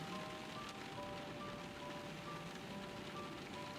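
Steady rain falls in the video game Letter Lost, a dense, even hiss that stays constant throughout with no gaps, accompanied by faint sustained tonal music lines and no voices.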